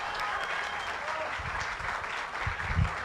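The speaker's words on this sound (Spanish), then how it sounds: "Un fuerte aplauso para ella." An audience at a live public talk at a PILARES center in Mexico City applauds speaker Antígona Segura Peralta: a steady wash of clapping from many hands fills the room, with voices faintly mixed in.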